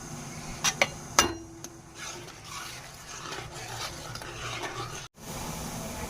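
A spoon stirs a sweet mixture with cardamom and saffron in a pot for an iftar dish: a few sharp knocks, then a steady close scraping and swishing, with a brief dropout near the end.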